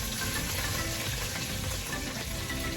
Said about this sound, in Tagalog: Fry lang natin.